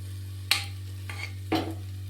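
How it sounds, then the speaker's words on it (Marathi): Sugar with cardamom powder melts over low gas while being stirred, a quiet low hum broken by three soft scraping strokes, close by and without talk. "थोडीशी विलायची पावडर टाकायची आणि कमी गॅसवरती चांगली साखर वितळून घ्यायची"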